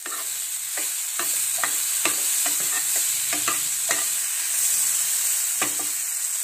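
Bitter gourd and potato fry stirred in a pan, a steady bright sizzle punctuated by repeated scraping strokes of a spoon at an irregular rhythm, close and clear.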